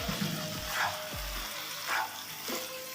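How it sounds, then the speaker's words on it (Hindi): Turnip bhujia cooked with tomato, chilli and onion fries hard over high heat in an open pan, giving a steady close sizzle with occasional stirring scrapes and a spatula knock. "तेज आंच पे भूनते रहेंगे।"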